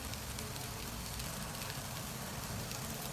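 Okra (ladyfinger) frying in a pan with salt gives a steady, even sizzle and crackle that runs unbroken for the whole stretch, with no voices.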